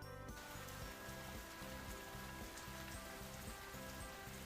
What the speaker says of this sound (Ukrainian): Пішов осінній дощик.